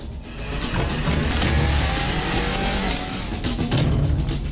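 A car in a Hindi-dubbed South Indian action movie revs loudly and drives off with its tires screeching, a continuous roar that swells and holds for several seconds.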